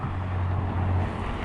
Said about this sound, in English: Ooh, that's a nice BMW.